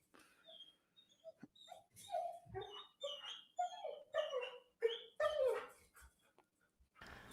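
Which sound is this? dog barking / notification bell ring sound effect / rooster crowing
dog barking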